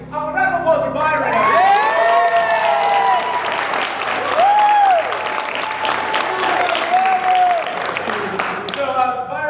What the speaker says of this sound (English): round of applause for Byron.